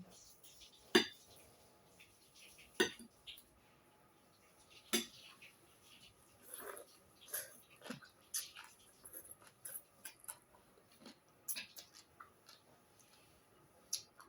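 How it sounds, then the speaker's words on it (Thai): Papaya salad is pounded in a mortar with a pestle, giving sharp, sparse knocks and clinks at irregular intervals, close and fairly quiet, with occasional soft speech in the background. "เราก็เลยมาตำมะละกอกิน"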